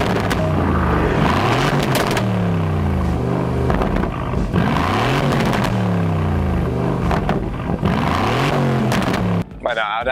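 An Aston Martin engine in track mode with the exhaust valves open, revving loudly in repeated rising and falling sweeps with crackling pops, close and dominant throughout.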